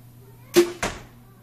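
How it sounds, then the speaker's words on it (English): A carbon arrow shot from an Elite Pulse bow, 46-pound draw, strikes a target: two sharp close thuds a quarter second apart against a quiet room. "is the arrow hitting the target"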